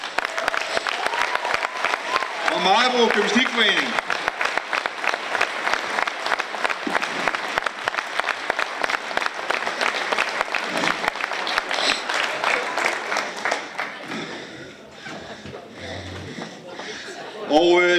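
An indoor audience at a Danish local awards event gives a long, steady round of applause for the year's leader award, the dense clapping running throughout with a few voices and chatter over it, thinning toward the end.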